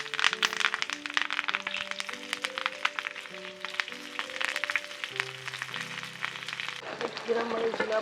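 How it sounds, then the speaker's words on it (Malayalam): Fish frying in oil in a pan for Kerala-style banana-leaf pollichathu: a steady crackling sizzle runs throughout, under continuous background music. "അതിനുശേഷം പാനിലേക്ക് എണ്ണ ഒഴിച്ച് ഒരു കുറച്ച് നേരം പൊള്ളിക്കാൻ വേണ്ടി വെക്കുന്നു."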